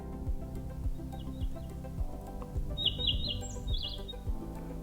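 A tablet's bird song alarm tone: bright, short bird chirps repeat in small bursts, faint over a low steady background rumble.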